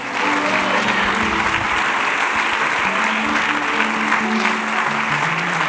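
Church congregation applauding during a worship service, sustained loud clapping from many people with music or voices faintly underneath, continuous and even.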